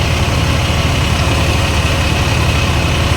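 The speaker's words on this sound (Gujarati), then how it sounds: "45 HP નું ટ્રેક્ટર છે." A 45 HP tractor engine powering a jumbo thresher during urad harvest, with a loud, close, steady drone and low rumble through the whole short stretch.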